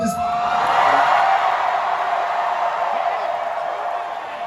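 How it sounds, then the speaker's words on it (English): A large convention crowd at a New York Comic Con panel cheers and whoops loudly in a sustained, dense roar that holds steady and fades slightly toward the end. "maybe if this crowd gets loud enough"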